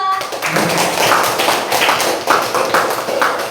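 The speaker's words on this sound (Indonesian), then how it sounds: "tepuk tangan untuk kelompok 2" A classroom group applauds for the second team: a crowd of hands clapping close and loud, with rapid irregular slaps and a few sharper accents, lasting several seconds.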